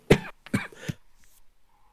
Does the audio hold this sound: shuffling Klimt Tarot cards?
no